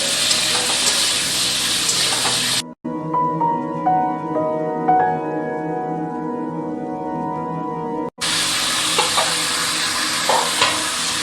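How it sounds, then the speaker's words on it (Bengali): Potatoes fry in oil in a pan with loud, continuous sizzling and stirring, broken by a middle stretch where a quieter tonal background sound replaces the frying before the sizzle returns. "আলুটা ভাজা ভাজা হয়ে গেছে"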